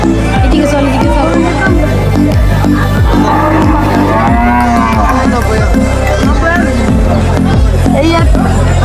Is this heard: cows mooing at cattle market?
yes